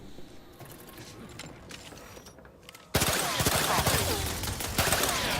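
A Zeranium gun fires in the video game The Outer Worlds 2: quiet in-game ambience for about three seconds, then a sudden loud stretch of rapid, crackling gunfire lasting to the end.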